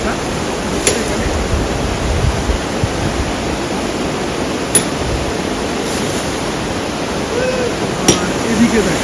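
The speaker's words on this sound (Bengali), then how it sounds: "এই দেখো ফলসটা এখানে," Waterfall along the Silk Route near Zuluk, a steady broadband rush of falling water that fills the whole clip, with a few faint knocks over it.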